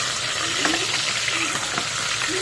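Onions fry in hot oil in a home kitchen pan, making a close, steady, hissing sizzle with occasional soft scrapes from stirring and no talk.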